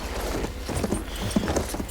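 Irregular hoof clops from a galloping horse in the video game Battlefield 1, over a steady background rumble, no voices.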